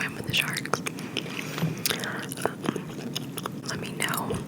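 Gum chewing right at the microphone, with wet smacks and clicks in an irregular rhythm, close and crisp, mixed with soft whispered speech.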